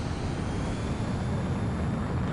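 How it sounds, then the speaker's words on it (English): Steady, loud droning hum of drones or aircraft engines flying overhead in a military-themed video game, a broad continuous rumble with no break and no voices. "What's the deal with all the drones?"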